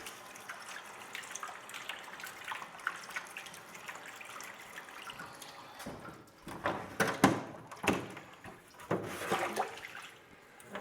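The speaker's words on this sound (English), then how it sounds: "what we're going to do is rinse it with some clear water first" Clear water runs and splashes over a salt print during rinsing, a steady trickle that grows into louder irregular splashes and pours toward the end, with no voices.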